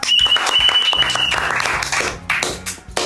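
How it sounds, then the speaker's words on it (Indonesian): A crowd claps loudly and steadily for about three seconds during a stand-up comedy quiz show, dense applause with a faint voice underneath. "Boleh tepuk tangan buat tim A."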